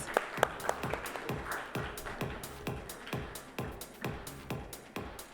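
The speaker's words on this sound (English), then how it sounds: "Let's give Mr. Khurana a warm, warm round of applause." Audience applause for panelists at an AI conference session, scattered individual claps with a clear rhythmic beat, moderately close and fairly soft, no talk over it.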